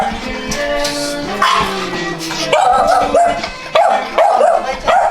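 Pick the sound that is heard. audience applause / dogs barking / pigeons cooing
dogs barking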